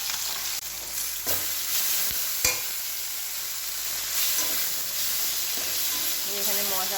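Spice paste and fish fry on two gas burners, filling the air with a steady, dense sizzle that stays loud throughout, with brief stirring clatters and no voices.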